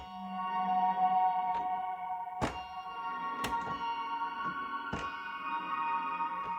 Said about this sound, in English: And let's listen to this reverb,